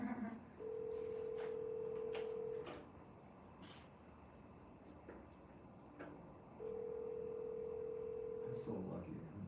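Outgoing call from a mobile phone, two long steady ringback tones with a pause between them, clear and fairly close, while people talk quietly and faint outdoor sounds and birds are heard.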